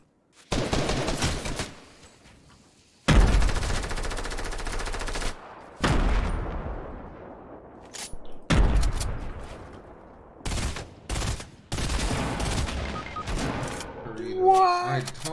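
Fortnite gunfire, sniper rifle shots mixed with rapid bursts and grenade explosions, loud and close in sharp repeated volleys separated by brief pauses, with occasional talk from a player.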